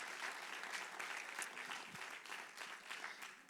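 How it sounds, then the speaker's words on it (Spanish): Church congregation at a Sunday morning service gives a loud round of applause, a dense, continuous wash of clapping heard at some distance, steady throughout. "Así que ellos merecen un fuerte aplauso."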